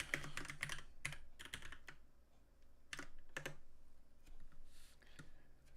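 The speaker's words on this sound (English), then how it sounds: "I'm using the loud keyboard." Loud computer keyboard being typed on in bursts of rapid clacking keystrokes, with pauses between runs, close and clear with no talking.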